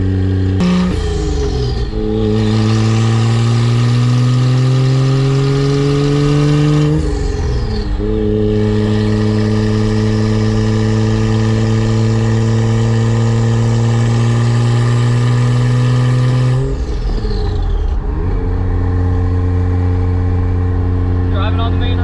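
A Toyota Aristo with a 1JZ-GTE engine and five-speed manual pulls hard and loud from close by, its revs climbing steadily through each gear with two clear shift dips before it settles at a lower drone.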